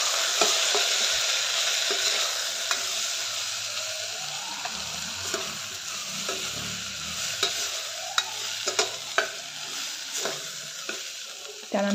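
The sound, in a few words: stirring and sautéing rasam powder mixture in pan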